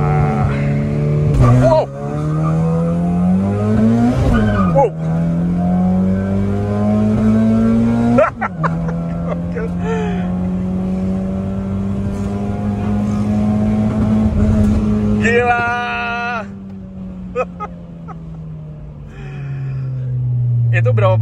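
A modified Honda Mobilio with a turbo-like upgrade driven hard, engine revving up and dropping through several gear changes, loud and close from inside the cabin, with people talking over it.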